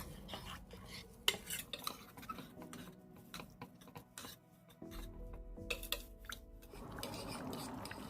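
A spoon scrapes and clinks around a metal pot as rice and water are stirred together, with faint irregular taps and rubbing and a soft watery swirl near the end, close and quiet with no talking.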